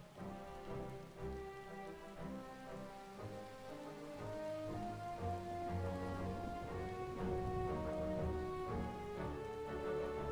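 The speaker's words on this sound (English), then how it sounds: "Why is it raining?" Steady rain falls during a Final Fantasy XIV: Stormblood cutscene, a continuous soft patter spread beneath sustained musical tones, growing slightly fuller in the second half, with no voices.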